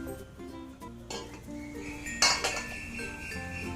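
A metal lid is set onto a pot of vattalappam for steaming. A few light clinks and scrapes come first, then one sharper, brighter clang of metal on metal, close and fairly quiet.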